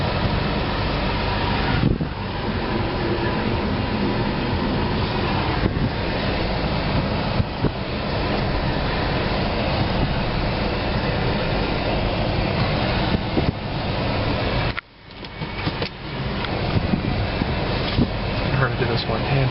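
Inside a 1999 Pontiac Grand Am on the move with the air conditioning running, a steady broadband cabin drone of engine and road noise holds throughout, dropping briefly once mid-drive before resuming.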